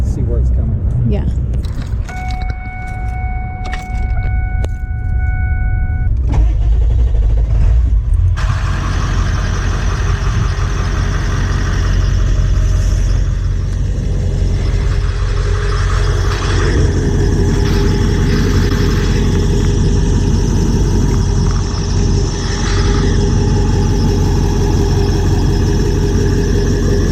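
A broken-down truck's engine cranks and catches, then settles into a steady, loud idle with a low rumble and whine, close by and running alone for a long stretch.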